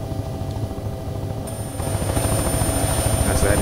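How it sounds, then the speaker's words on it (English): Helicopter in the flight simulator game Take on Helicopters, a steady rotor drone and engine hum that swells louder after the midpoint and continues under rain, with a voice talking over it. "That's the helicopter."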